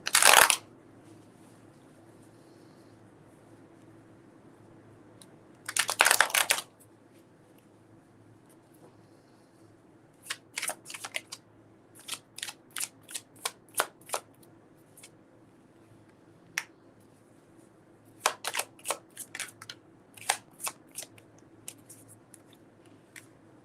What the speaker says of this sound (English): Let's try a hard shuffle.